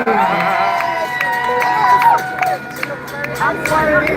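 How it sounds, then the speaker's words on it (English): A crowd at a ribbon-cutting ceremony claps and cheers, producing steady, loud applause with whoops and shouts running through it. Voices and general hubbub mix into the noise the whole time. "Another round of applause for the inimitable Devon House Ice Cream."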